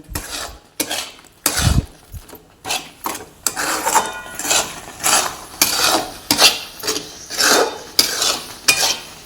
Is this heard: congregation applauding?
no